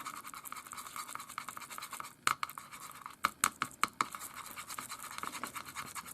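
A paintbrush mixes light green paint, its bristles scratching and scrubbing softly with a few sharp taps and strokes in the middle.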